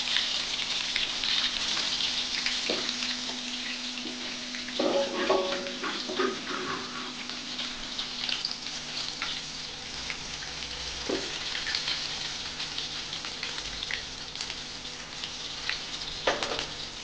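Fish frying in a kadhai gives a steady, dense crackling sizzle that lasts throughout, with scattered sharper pops and spits rising above the bed of frying noise.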